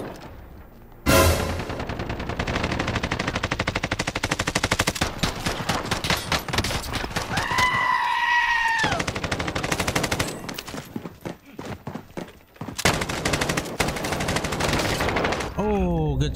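Close, loud bursts of automatic and pistol gunfire in the Zombie Royale shooter come in quick volleys with short gaps, mixed with game effects and a sweeping electronic tone.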